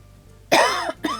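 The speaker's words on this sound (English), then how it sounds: "Sorry about the cough." A single sharp cough bursts out close to the mic, followed by a shorter second cough after a brief pause, in an otherwise quiet room.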